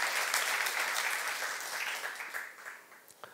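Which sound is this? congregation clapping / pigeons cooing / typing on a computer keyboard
congregation clapping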